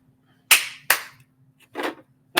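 Sharp hand claps, two crisp loud ones close together, then a softer, duller clap after a short pause, made to trigger a clap-activated toy, with a faint steady electronic hum underneath.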